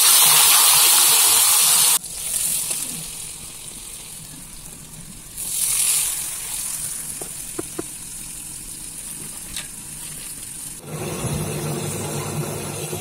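Small fish frying in hot oil until crispy, village-style home cooking, a steady sizzling hiss that swells and fades as the pan is worked, with occasional faint clinks and pops.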